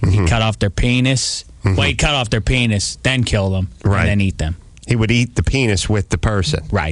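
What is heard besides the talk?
No distinct noise like a dog, phone or traffic.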